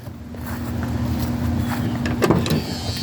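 A big old Dodge truck fitted with a Holley fuel pump rumbles up close with a steady low engine drone, rising slightly, with a brief clatter near the end.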